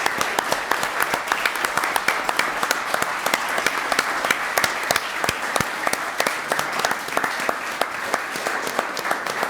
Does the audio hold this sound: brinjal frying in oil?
no